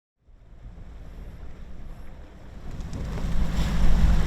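Wind blowing hard across Toledo Bend lake during a boat fishing trip, a steady rumbling gust that swells louder toward the end, with water slapping faintly beneath it and no talk.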